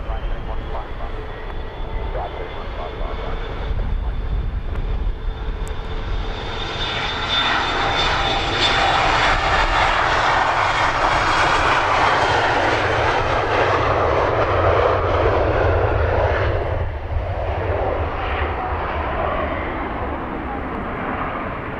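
An airplane takes off at London Luton Airport, its engine roar building to a loud, sustained rumble that peaks midway and then slowly fades as it climbs away. A voice talks faintly beneath the noise.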